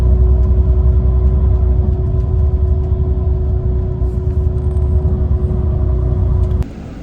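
Inside a small bus on the road, a steady low engine rumble and drone runs throughout, loud and close, then drops in level abruptly near the end.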